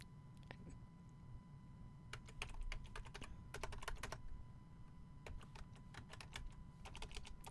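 Fingers tap steadily on a computer keyboard in quick bursts of clicks, with brief pauses between runs, close and fairly quiet over a low room hum.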